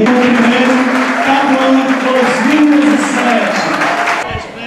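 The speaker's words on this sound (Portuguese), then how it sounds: "Estamos aqui acompanhando a euforia da torcida de Capivara" Supporters from Capivara cheer and applaud loudly at a student competition award ceremony, a dense, continuous crowd roar with clapping and raised voices that holds steady before easing slightly at the end.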